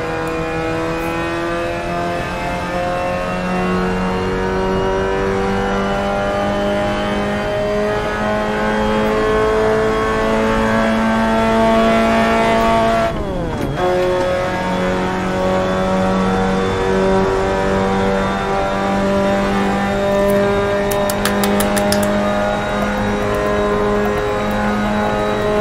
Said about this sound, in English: Those are pretty terrible gear shifts.